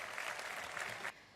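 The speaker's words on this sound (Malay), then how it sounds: "Kita beri tepukan gemuruh." Applause at the opening of the Sixth Special Olympics Sarawak State Games at a community sports complex: a burst of crowd clapping that stops abruptly near the end, leaving quiet room tone.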